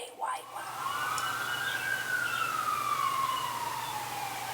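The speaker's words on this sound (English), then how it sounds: "Ignore the sirens." A siren wails in a long rising and falling sweep, steady and fairly loud, with a faint voice briefly at the start.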